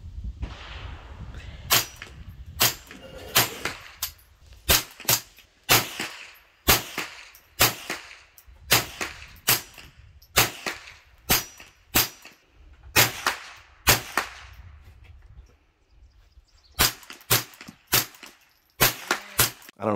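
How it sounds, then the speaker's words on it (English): A Grey Birch LaChassis takedown rifle fires subsonic ammunition, a long series of sharp, fairly quiet cracks with short gaps between them, each shot distinct against a mostly quiet outdoor background. "Pretty fun shooting this gun here."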